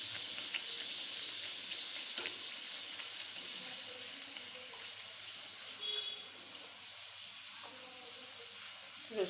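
Peas kachori deep-frying in a pan of hot oil, giving a steady, soft hiss of bubbling and sizzling that carries on evenly throughout with a few faint clinks, and no one speaking.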